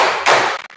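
Loud, close hand clapping during a classroom ice-breaking game: a couple of quick, sharp claps run together in under a second.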